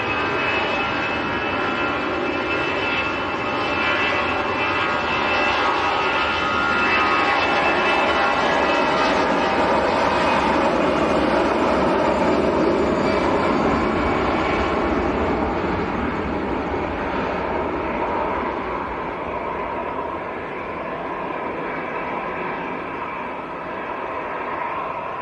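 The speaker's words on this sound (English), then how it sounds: "Aer Lingus A320 about to roll." Aer Lingus Airbus A320 taking off at Manchester Airport, a loud sustained jet engine roar that swells steadily and holds for the whole stretch before easing slightly near the end.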